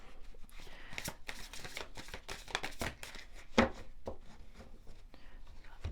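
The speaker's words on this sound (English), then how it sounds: "These are pre-shuffled, but I'm being asked to shuffle once more." A deck of cards being shuffled once more at a close tabletop, giving a run of soft riffling, rustling bursts with one sharper snap partway through and no voices.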